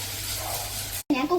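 Running water hisses steadily as food is rinsed in a home kitchen, a close spray lasting about a second before it cuts off and a voice speaks.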